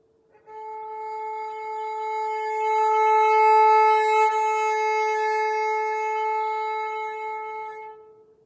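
A bowed string instrument holds one sustained note from soft to loud and back to soft. The tone is smooth and steady, close and alone, with a gentle swell in the middle and a soft fade at the end.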